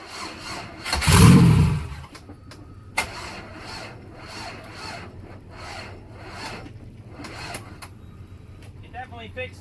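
A car engine cranks and roars into life on its first start after repair, a loud surge lasting about a second, then settles into a low idle while people talk nearby.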